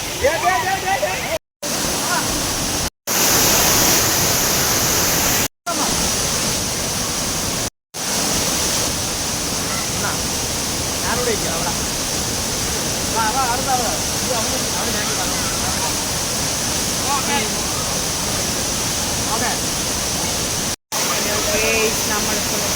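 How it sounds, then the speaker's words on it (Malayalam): Meenmutty waterfall near Kilimanoor, where people are bathing, gives a continuous loud rushing roar, with voices talking over it and a few brief dropouts. "ഇപ്പോൾ കിളിമാനൂര് അടുത്തുള്ള മീൻമുട്ടി വെള്ളച്ചാട്ടത്തിലാണ് കുളിക്കുന്നത്"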